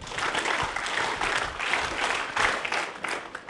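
A crowd at a session event gives a dense, sustained round of applause, loud and even throughout, with no talking over it.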